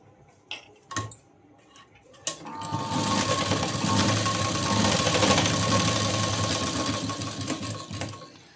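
A sewing machine stitching a small fabric tassel, starting after a few sharp clicks and taps, then running at a steady fast whir for several seconds, close and fairly loud, with no talking.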